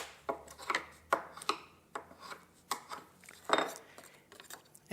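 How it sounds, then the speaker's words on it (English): A steel burnisher is drawn along the edge of a steel card scraper to raise burrs, giving a series of short, bright metallic scraping strokes in an irregular rhythm, close and clear with nobody speaking. "Raise the burrs with the burnisher."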